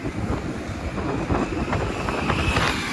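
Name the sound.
express train passing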